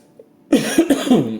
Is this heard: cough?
yes